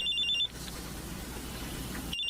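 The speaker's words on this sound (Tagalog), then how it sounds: "May tumatawag sa cellphone ko." A cellphone rings with an incoming call, its repeating electronic ring tone steady and clear at the start and again at the end, cut off by a long hiss of background noise in between.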